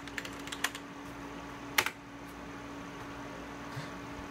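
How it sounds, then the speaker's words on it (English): Sparse, quiet keystrokes tap on a keyboard connected through a usb3sun adapter, a few isolated clicks over a low steady hum. "now all that's left to do is try typing"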